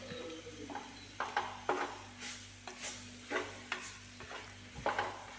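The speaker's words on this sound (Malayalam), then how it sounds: "ഇതും കൂടി ഒന്നിട്ട് നന്നായി മിക്സ് ചെയ്യാം" A spoon stirs masala bonda mixture in a bowl with a series of soft, scraping strokes, fairly quiet and evenly spaced, over a steady low hum.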